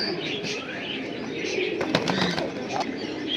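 Pigeons cooing softly among a collection of fancy pigeons, with faint wing flaps and chirps mixed into steady background noise.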